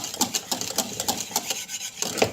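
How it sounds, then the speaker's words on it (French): A whisk beating thickening pastry cream for mille-feuille as it cooks in a pan, making quick rhythmic scraping strokes, close and steady. "on n'arrête pas de fouetter et de cuire 3 minutes"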